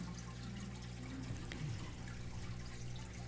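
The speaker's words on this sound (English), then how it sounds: "listening to the beautiful fountain here" A fountain splashes and trickles steadily throughout, soft and continuous with no talking.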